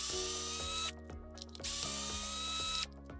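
Power screwdriver backing out the three cover plate screws on an Arrma Mega RC car, two loud whirring bursts separated by a short pause, close up.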